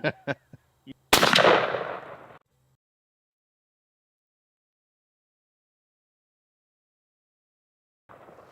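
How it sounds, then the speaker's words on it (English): One sharp, loud gunshot fired at a target with Flatline ammunition, with a short echoing decay, comes after a few faint clicks and is followed by long silence and then distant low noise. "Then I'll shoot the left target. I'm gonna shoot the right one."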